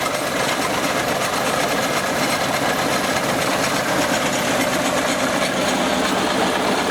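A peat extraction machine works on a dusty peat field at a Kushavera peat works, its engine giving a steady, loud, unbroken mechanical drone with a rattling knock throughout.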